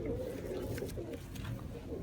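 Teddy pigeons coo softly in a loft, low throaty calls rising and falling in short phrases amid faint background noise and occasional voices.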